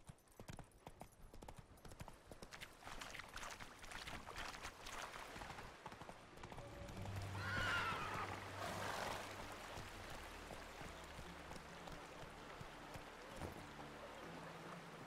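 Steady hoofbeats of a horse galloping in The Witcher 3 video game, a continuous clip-clop rhythm under faint ambient game sound and music, with no talking.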